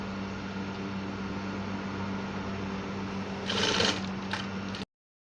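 Sewing machine running steadily while stitching a senator top with a 1/4 inch seam allowance, a continuous close mechanical hum with a brief louder burst near the end before it stops.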